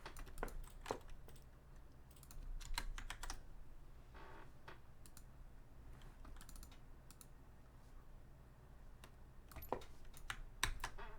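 Quiet bursts of computer keyboard typing, rapid clustered key clicks separated by short pauses, close but soft, with no talking.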